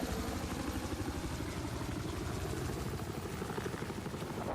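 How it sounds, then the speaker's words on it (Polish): An enemy helicopter in the video game Battlefield 4, its rotor thumping rapidly and steadily with a dense engine whine, loud and close for the whole stretch with no talking. "Przeciwnik ma tu helikopter!"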